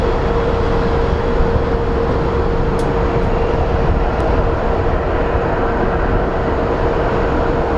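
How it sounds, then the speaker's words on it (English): Boeing 737 airliner just after landing at Phoenix Sky Harbor International Airport, a steady loud broadband roar of engines and rushing air with a constant whining tone, continuous and unchanging throughout, no talk. "There's our 737, landed from Raleigh-Durham."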